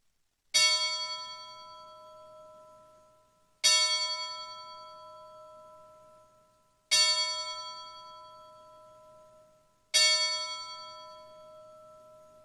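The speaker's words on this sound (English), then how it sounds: "will you please ring the Roanoke College bell 4 times?" The Roanoke College bell strikes four times at a ring ceremony, each clear metallic strike ringing out and decaying slowly before the next, spaced about three seconds apart with no talk.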